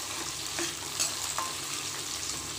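Onion, tomato and garlic being sautéed in a pan for a raw-banana fish curry sizzle softly and steadily, with a few light scrapes of stirring.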